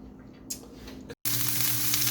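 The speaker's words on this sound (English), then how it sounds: "now the turn to fry the onion" Onion sizzling in a pan, softer at first, then a brief gap followed by a louder, fuller burst of frying, close by.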